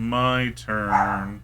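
A small dog barks a few times in the background, faint under someone talking in the foreground.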